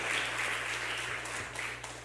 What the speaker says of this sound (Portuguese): Você pode aplaudir ao Senhor, meu irmão?